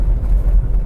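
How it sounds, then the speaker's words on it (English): Steady low road rumble and cabin drone inside a moving car with a noisy ride, continuous and fairly loud, with no talking. "Sorry about the noise in the car."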